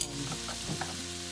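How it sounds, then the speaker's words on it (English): Wild caught Argentina shrimp fry in a pan with a continuous close sizzle, and faint stirring scrapes run through it. "I'll be cooking with wild caught Argentina shrimp."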